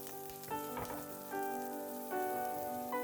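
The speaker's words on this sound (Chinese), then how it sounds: "下葱姜蒜，开始爆香" Scallion, ginger and garlic sizzling in hot oil over medium heat, a close, steady crackling fry under a sustained musical tone, no speech.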